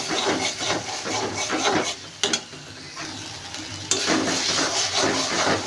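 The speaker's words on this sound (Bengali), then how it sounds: "হালকা হালকা করে কষাতে হবে এবার, যতক্ষণ না মশলা দিয়ে তেল বেরোয়।" Ginger, dry chili, garlic paste and tomato sizzle in hot oil while a spatula scrapes and stirs the pan in steady strokes, close and continuous, with a couple of sharper knocks against the pan.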